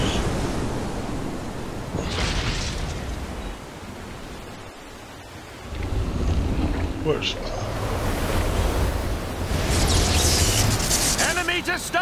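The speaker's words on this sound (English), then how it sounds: "And there's the waves." Ocean waves wash and roar continuously in the Disney Infinity pirates game, with broad surging swells rising and falling over roughly twelve seconds under wind-like noise, loud and close throughout.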